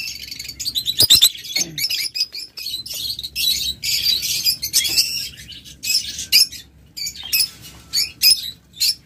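Dozens of lovebirds in an aviary, about fifty pairs, chirp and squawk constantly, with rapid overlapping high tweets and sharp calls, loud and close throughout.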